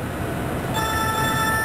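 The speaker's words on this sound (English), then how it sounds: "Shut up, phone!" A telephone starts ringing partway through in a home kitchen where crawfish étouffée is being cooked, a steady electronic ring with bright harmonic tones coming in after a quieter stretch of kitchen background.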